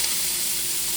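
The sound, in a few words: food frying in a pan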